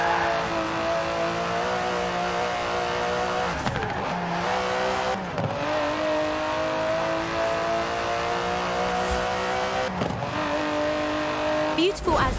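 An Aston Martin DB11 drives in Forza Horizon 4, its engine droning steadily and loudly with repeated gear shifts and revs, while a voice talks over it.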